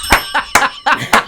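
Bells ring in five quick, bright strikes, each with a short metallic ring-out, close and loud in an even rhythm.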